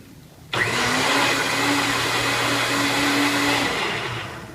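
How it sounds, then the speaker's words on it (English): A blender blends cabbage leaves and water for a smoothie at a Halloween science demo show, switching on abruptly to a loud, steady whirring roar that holds for about three seconds before winding down. "I'm going to make a nice nutritious cabbage smoothie by adding some of these cabbage leaves, some water in this blender"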